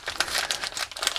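Plastic wrap around a Wegmans steak crinkles and crackles continuously as it is peeled open, close up and fairly loud, with no voices.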